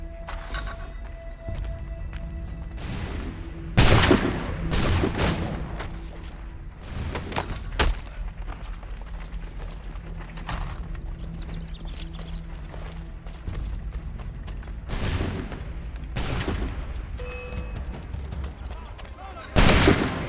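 Musket volleys in an Assassin's Creed III battle, several sharp loud cracks spaced a few seconds apart amid a steady din of combat and shouting voices.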